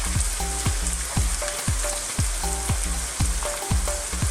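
Garlic fries with a bright, steady sizzle in a pot while a spoon stirs it in quick, regular scraping strokes, close up and alone.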